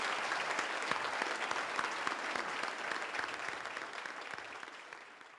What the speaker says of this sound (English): let's give him a round of applause for what he does